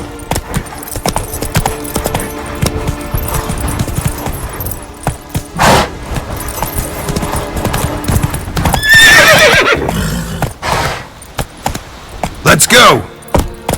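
A horse gallops and neighs in The Witcher 3: steady clip-clop of hooves with loud whinnies breaking through near the end, plus a brief voice amid the game sounds.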